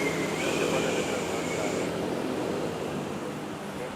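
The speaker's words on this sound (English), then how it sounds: "There we go, nice smooth takeoff there." A DHL Airbus A330 taking off from runway 06 at Manila Airport, heard as a loud, broad engine roar with a high whine that fades slightly as the jet climbs away, while a person talks.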